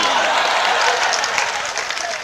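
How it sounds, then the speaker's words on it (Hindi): An audience at a bidding ceremony for a kalash in Sagar breaks into applause, a dense steady wash of many hands clapping at once, close and fairly loud. "ये तालियां बहुत कम बज गई।"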